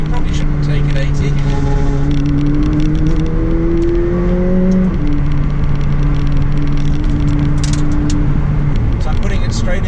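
McLaren 600LT 2020 supercar engine droning steadily from inside the cabin, with rising pitch as it accelerates and a quick blip at a gear change midway, under continuous road and wind noise.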